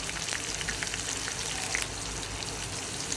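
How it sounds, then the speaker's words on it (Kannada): Continuous crackling sizzle of onion frying in hot oil for semiya upma, steady and close, with scattered pops and no voices. "ಈಗ ಇದನ್ನು ಎಣ್ಣೆ ಒಳಗೆ ಸ್ವಲ್ಪ ಬಾಡಿಸ್ಬೇಕು ಉಳ್ಳಾಗಡ್ಡಿನ."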